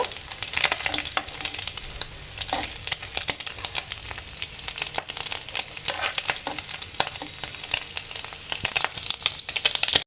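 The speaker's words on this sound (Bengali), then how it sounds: "5 থেকে 6 মিনিট আমি এটাকে কড়া করে একদম ভেজে নিলাম" Small peeled shrimp fry crisply in a pan, a close crackling sizzle with constant popping and spattering, steady and loud without voices.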